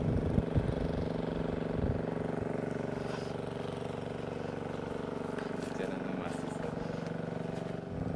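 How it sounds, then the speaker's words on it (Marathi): An oil-fuelled engine running a water pump beside a pond near a lake, drawing water: a steady, droning chug holds throughout at moderate distance, with some voices mixed in underneath. "या बाजूला मोटर चालू आहे, ऑइल इंजिन."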